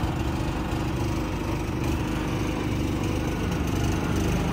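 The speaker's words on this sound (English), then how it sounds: "Sound like a little mini bike rolling down your neighborhood." A small engine, like a mini bike's, runs steadily and close by with a constant buzzing drone. It holds an even level throughout with no talk.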